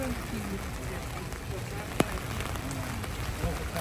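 Steady rain falling outside during a rainy day on a European trip, a dense, even patter with a single sharp tap midway and faint chatter now and then.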